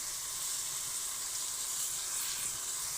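Fish pieces drop into hot oil for a braised home-style dish, giving a steady, loud sizzle with a bright hiss that holds evenly for the whole stretch and has no talking over it.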